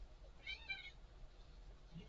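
A cat gives a single short, faint meow, rising and falling over quiet low background hum.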